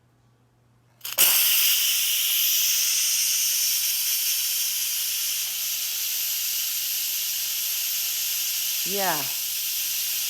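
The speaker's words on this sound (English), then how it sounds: "what's gonna happen is steam is gonna come shooting out of here" Steam hisses loudly and steadily from a pressure cooker valve for several seconds after a sudden release; a brief voice is heard near the end.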